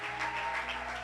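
A church congregation applauding during a Sunday service, a brief steady wash of many hands clapping, fairly close and full, with a faint sustained tone underneath.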